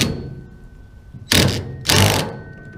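Five-inch clamp driven open with a small 1/4-inch driver, two short loud whirring bursts after a quiet lead-in, close up with no talk.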